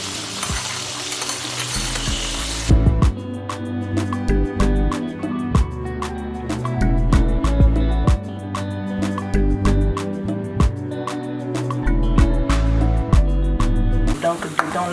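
Tomato purée frying in hot oil with seasonings, a steady close sizzle followed by repeated clicks and scrapes of stirring.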